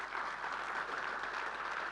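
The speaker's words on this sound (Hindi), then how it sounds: "ताली मारिए तो जोर से मारिए" An audience at a lecture by an Indian Army general in Dhar claps in sustained, dense applause, steady and moderately loud throughout, with no clear talking.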